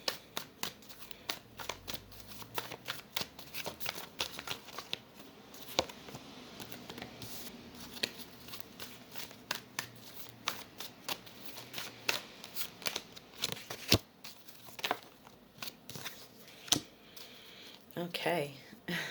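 Tarot and oracle cards are shuffled by hand, giving quick, soft riffling bursts and flicks that repeat close by throughout, with someone talking quietly underneath.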